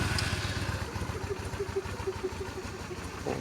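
A Honda Shadow Slasher 400 motorcycle engine from the 2000s idles steadily nearby with a low, rapid, even thumping throb and no other sounds.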